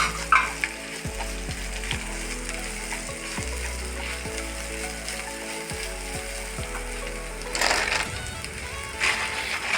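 Tapioca thoran ingredients sizzle steadily in a hot pan, a continuous close frying hiss with faint stirring scrapes and a low steady hum underneath, swelling briefly near the end.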